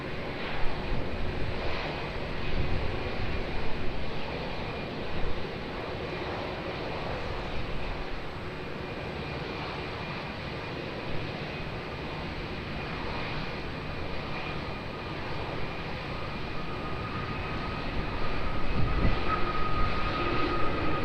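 An airliner takes off from runway 20 at Lisbon Airport in gusty wind, its engines a steady mid-distance roar and rumble that swells slightly louder toward the end, without talk.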